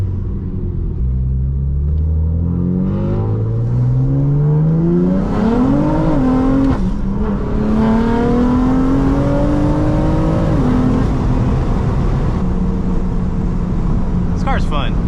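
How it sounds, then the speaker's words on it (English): BMW S55 engine fitted with Valvetronic equal-length exhaust, revving and pulling through gears with rising tones, a shift, then a steady drone under a deep rumble, heard from inside the car with a voice talking over it. "The downshift sounds so crisp."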